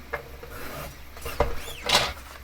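A Tim Holtz precision trimmer slices through paper with a few short, dry rasping strokes, the loudest swipe near the end, close up and without talk.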